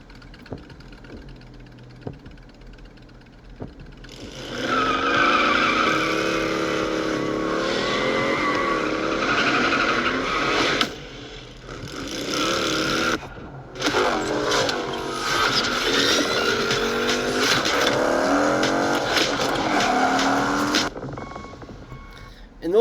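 A 2024 Harley-Davidson motorcycle engine runs loud and close, revving up and down in sweeping pulls for well over ten seconds, with a brief cut and then more throttle before it settles.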